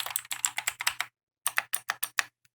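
A password typed on a computer keyboard comes as two quick bursts of crisp, close keystrokes separated by a short pause, with no other sound around them.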